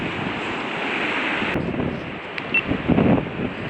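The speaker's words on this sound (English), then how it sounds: "this wind is horrible" Strong wind buffeting the microphone on a riverbank after a flood, a constant loud roar with gusts swelling near the end.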